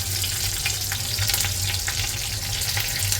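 Curry leaves sizzle in hot oil in a pan for a Maharashtrian-style fish fry: a steady, close, dense crackling hiss with small popping bursts throughout, no voices.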